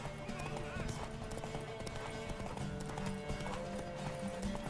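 Steady hoofbeats of a galloping horse in The Witcher 3 horse race, with a whinny rising among the clatter and voices speaking over the continuous rush of movement.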